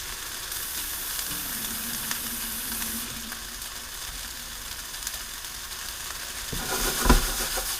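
A gentle, steady sizzle of ground beef frying in a pan, not very loud, with a brief scrape and clatter near the end.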